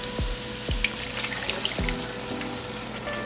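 Canned diced tomatoes poured into a pot for chili, a wet slopping and gurgling with a few soft plops over a low steady sizzle, close and without talk.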